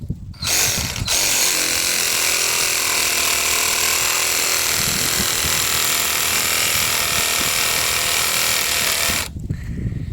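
LEADER cordless reciprocating saw with a metal-cutting blade sawing through metal, a loud, steady buzzing drone that runs continuously for about eight seconds, close up, with no talking.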